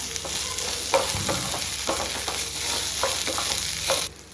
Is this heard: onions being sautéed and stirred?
yes